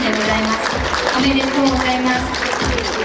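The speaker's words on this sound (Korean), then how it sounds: "축하의 박수를 보내드리십시오" An audience applauds at an awards ceremony with steady crowd clapping, while a voice talks over it throughout.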